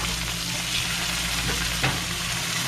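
Zucchini, mushrooms and garlic sizzle steadily in a hot pan, a loud continuous frying hiss with a couple of faint scrapes as the vegetables are stirred around.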